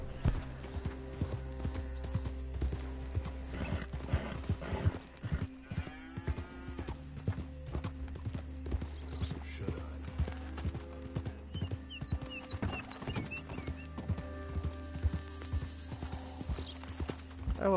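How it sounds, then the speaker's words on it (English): Steady clip-clop of horse hooves on hard ground in the video game Red Dead Redemption II, a continuous rhythmic trot over a low background hum, with no talking. "I love that sound of horse hooves on ground"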